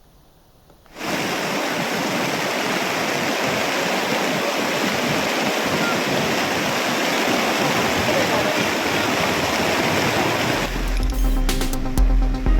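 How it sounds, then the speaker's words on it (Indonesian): The Kali Asem river overflows into homes in Rogotrunan, Lumajang, at night, a loud, steady rush of floodwater that starts abruptly and roars without a break, with a brief clatter near the end. "Inilah situasi saat air sungai Kali Asem meluap ke permukiman warga di Kelurahan Rogotrunan, Lumajang pada Kamis malam."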